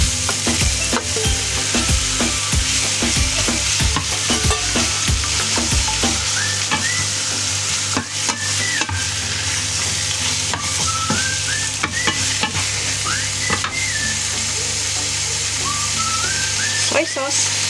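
Squid tossed into a hot pan with translucent onions for spicy coconut-milk squid adobo: a loud, steady sizzle with repeated stirring scrapes fills the whole stretch, with faint whistling tones in the background.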